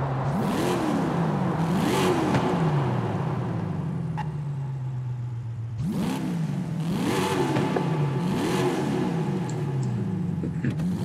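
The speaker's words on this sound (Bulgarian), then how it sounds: "тази кола наистина е бавна, но поне има прекрасен звук, който се заслужава да се чуе" A supercharged sports car engine in Forza Horizon 5 revs repeatedly inside a tunnel in rising and falling sweeps, the supercharger whining over a steady loud drone, with a sharp shift mid-way.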